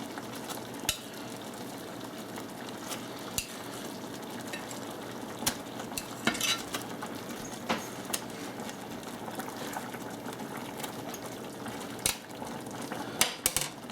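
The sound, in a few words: burgers simmering and stirred in mushroom mix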